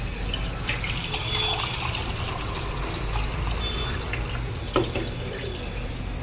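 Water running from a kitchen tap into a pot for egg biryani, a steady close splashing stream with faint clinks, no voices.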